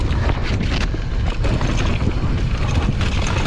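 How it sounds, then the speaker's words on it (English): Wind buffets the microphone on a hillside trail near Loughrigg, Ambleside, making steady low rumbling gusts with no voices. "Oh, into the wind now."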